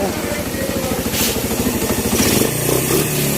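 An overhauled Suzuki Thunder 125 motorcycle fitted with a performance carburetor runs with a fast, steady, close thumping engine beat, while people talk over it throughout.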